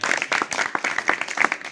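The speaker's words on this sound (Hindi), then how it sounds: "बच्चों, एक बार खुशबू के लिए तालियां हो जाएं" Children in a school classroom clap for a classmate after an art and craft competition, a close, uneven burst of hand claps with a few voices mixed in.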